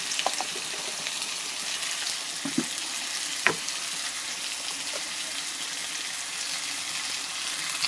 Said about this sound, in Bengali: ভালো করে নাড়িয়ে দিয়ে দেব